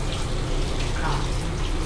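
Water runs steadily from a tap for hand washing in a shop: a continuous, fairly loud splashing and rushing stream with no pauses.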